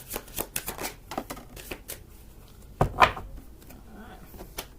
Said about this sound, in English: I'm just getting the cards out.